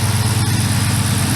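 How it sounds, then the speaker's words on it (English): Cold standard 4.7 engine idling while warming up, a steady low rumble with an even pulsing rhythm, close and loud, with no talk over it. "let me show you the engine a little bit while it's just warming up"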